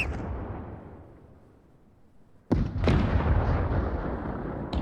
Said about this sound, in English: the mortar barrage that Kuczynski called in begins to fall around him